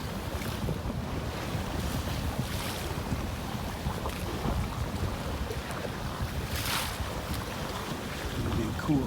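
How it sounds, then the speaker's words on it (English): Steady wind rushing over a sailboat sailing hard on the wind off the coast of Scotland near the Isle of Mull, broadband and continuous with wave wash and occasional louder gusts, no voices. "the wind finally picked up"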